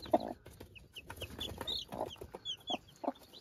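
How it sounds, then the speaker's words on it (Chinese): A brooding hen with her twelve newly hatched black chicks clucks in short, agitated bursts inside the coop, while high chick peeps scatter through the quiet, close by. "耶，这只母鸡很凶哎。"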